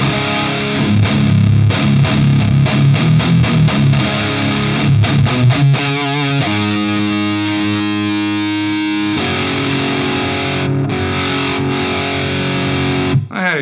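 An electric guitar plays through a Suhr Riot Mini distortion pedal at maximum gain, giving a thick, fuzz-like tone. Choppy chugging riffs give way to long sustained chords that ring out loudly, with no talking.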